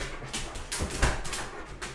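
A pet dog whimpers indoors in soft, broken whines spread across a couple of seconds, close by and moderately loud, with faint household noise underneath.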